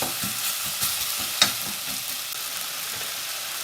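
Garlic frying in a pan at the start of a curry sauce, giving a steady close sizzle with faint stirring scrapes and one brief clink, with no talking.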